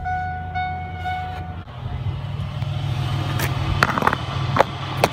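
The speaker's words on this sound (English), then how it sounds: "it's basically straight pipe, but the muffler's out. It's pretty loud, but I think it sounds good." A 2000 Pontiac Grand Prix GT running a straight-pipe exhaust with the muffler removed gives a loud, steady low rumble close by, with a couple of sharp clicks and knocks toward the end.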